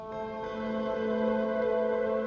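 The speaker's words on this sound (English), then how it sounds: "lap steel, the tremolo slow, which sounds like this." A lap steel guitar from a sample library, played with slow tremolo, holds a sustained chord that swells softly. A gentle wavering pulse runs through the steady, smooth tone.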